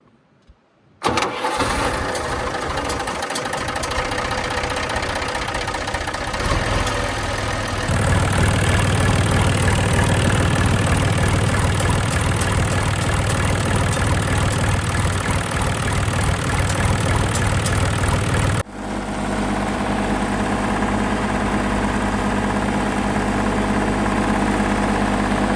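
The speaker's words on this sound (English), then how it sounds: "I'll fire this thing up and let it run again and see how quick it starts pushing oil up into the radiator." The engine of a neglected John Deere machine cranks briefly, catches and settles into a loud, steady mid-pitched running drone close by, then drops to a slightly lower, even idle near the end.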